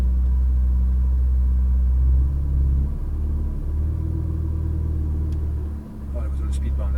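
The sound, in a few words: Ferrari 488 GTB rumbling over a speed bump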